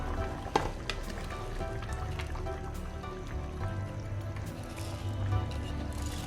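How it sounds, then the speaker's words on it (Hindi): Soaked rice tipped into a pot of boiling water for vegetable pulao, with a soft splash and rustle over a continuous bubbling, sizzling bed of sound, close and moderately loud. "अब यहाँ पे जो चावल थे मैंने तकरीबन 20 मिनट पहले भिगोए थे, ये इसमें डाल देते हैं।"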